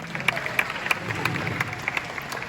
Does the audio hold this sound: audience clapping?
yes